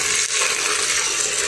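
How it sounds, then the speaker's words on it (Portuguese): Water pouring into a cooking pot holding carrot, potato and coriander, a loud continuous splashing rush that holds steady for the whole brief moment. "Vou colocar água e vou fechar a panela, né? Pra cozinhar."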